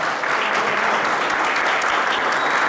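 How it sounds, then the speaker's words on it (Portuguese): Audience giving a round of applause to a person at a debate event, loud, dense, continuous clapping from a close crowd with no speech. "Uma salva de palmas, Fabinho, gente."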